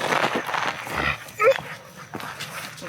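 Pit bull dogs move about outdoors in woodland, giving brief barks and whimpers and rustling nearby, with a few short sounds of horse hooves among them.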